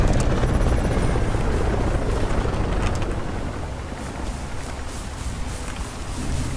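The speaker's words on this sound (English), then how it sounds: "sometimes I steal a helicopter." A helicopter's rotor chop and engine drone in the video game Battlefield: Bad Company 2 fill the scene, loud at first and easing slightly as it continues steadily throughout.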